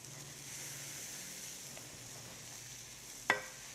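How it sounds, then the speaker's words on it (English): Quiet, steady sizzle of oaty pancake batter with blueberry and orange frying in a hot pan, with a soft hiss throughout and a sharp clink of a utensil near the end. "blobs of batter. Lovely sound, sizzle, sizzle."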